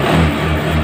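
A Honda Beat FI fuel-injected scooter engine runs steadily with no battery fitted, a loud, close, continuous mid-pitched motor hum.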